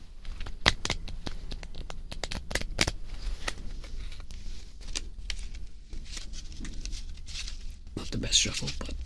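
Trading cards are shuffled up close in a rapid burst of sharp riffling snaps, then a stretch of softer rustling handling and a final flurry near the end. Whispered talk runs quietly underneath.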